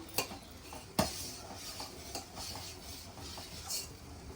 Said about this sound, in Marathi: मोठ्या गॅसवर सतत असं हलवत राहायचं